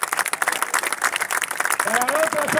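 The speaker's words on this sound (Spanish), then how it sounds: "este aplauso es mío" Clapping and crowd noise from a street circus audience in Mar del Plata, steady mixed applause over a busy background, with a whistle-like tone rising near the end.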